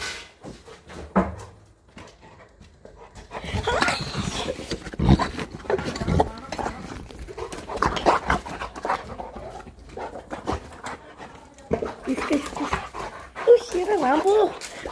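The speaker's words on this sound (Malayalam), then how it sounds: "ഇതാണ് എൻ്റെ ഡോഗ്." A pet dog greets its returning owner with excited panting, whimpers and snuffling close by, mixed with shuffling and movement, while a person talks over it.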